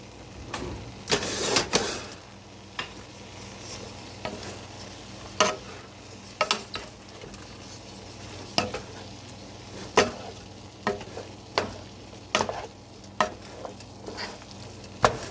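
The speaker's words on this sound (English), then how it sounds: "We're gonna stir it up." Taco soup is stirred in a pot, a spoon scraping and knocking against the sides in an irregular series of clacks over a continuous low simmering hiss.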